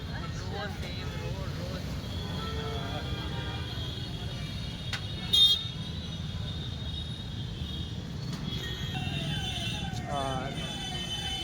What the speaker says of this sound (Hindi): ये देखिए ट्रैफिक कितना है यहाँ पे